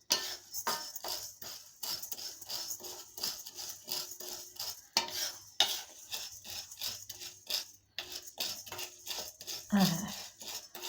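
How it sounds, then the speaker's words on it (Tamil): Chana dal dry-roasts in a pan as a spoon stirs it, giving soft repeated scraping and rattling strokes in a steady rhythm, fairly quiet and close. "கடலப்பருப்பு போட்டு நல்லா சிகப்பாக வறுக்கணுங்க"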